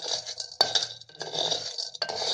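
Wild jackfruit seeds are stirred through hot sand in a metal pan for roasting, giving a close, gritty rattling swish with sharp metallic clinks of the stirring utensil at intervals, no voices.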